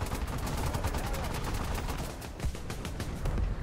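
Rapid, loud gunfire bursts from a World War II tank battle game, repeated sharp cracks over a steady engine and battle rumble, with a dense, constant roar throughout.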